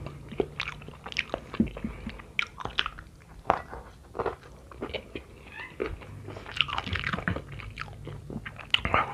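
Close, wet chewing and biting on spicy Indonesian beef balado, with crunchy bites and squishy mastication repeating in irregular bursts throughout, loud and up-close, with no speech.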